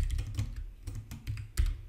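Quick bursts of typing on a computer keyboard while entering C++ code, close and distinct, with an irregular clatter of keystrokes and no talking.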